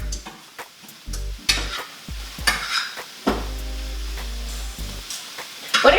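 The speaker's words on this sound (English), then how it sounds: "we're gonna go back to our broccoli and we're just gonna give it another stir" Broccoli is stirred in a pan, with a steady sizzle under repeated scraping, clattering stir strokes that come in bursts, loud and close, with no talking.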